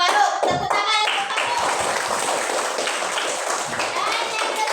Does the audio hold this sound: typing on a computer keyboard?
no